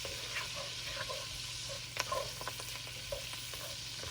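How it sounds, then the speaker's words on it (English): Lamb chops searing in a pan with garlic being stirred, a steady quiet sizzle with soft scrapes and occasional louder pops and clicks. "I want some of this liquid to go down because I want to get a good sear on those lamb chops"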